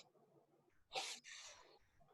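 A single sharp sneeze close by, a quick breathy burst followed by a short exhale, in an otherwise quiet room.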